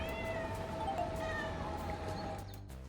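A cat meowing in the hidden-object game Hidden Cats in Berlin, a soft drawn-out call layered over a steady bed of ambient game music and city background.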